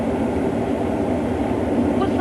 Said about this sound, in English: Looks like a locomotive haul train. Yes, Liverpool to Norwich, I think.